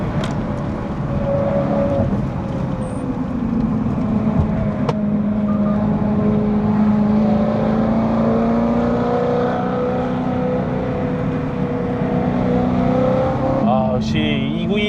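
BMW E92 M3 engine pulling hard through a long gear, its exhaust droning steadily and rising in pitch for the whole stretch, with a brief shift-like break near the end.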